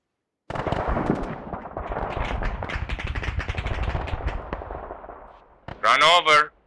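Arma 3 artillery fire lands in a long rolling barrage of dense, overlapping booms and crackling impacts, loud and sustained before fading, followed by a short burst of a clipped radio voice.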